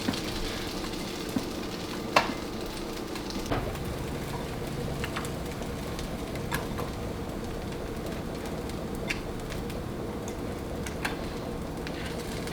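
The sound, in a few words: egg-batter soaked bread frying in a pan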